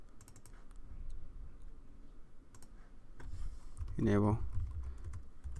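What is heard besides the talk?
typing on a computer keyboard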